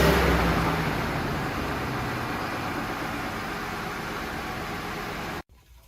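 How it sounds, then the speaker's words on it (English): A car engine idles just after an oil change, giving a steady broadband hum with no voices that runs evenly, then cuts off sharply at the end. "we're gonna turn on the engine, let it run a minute"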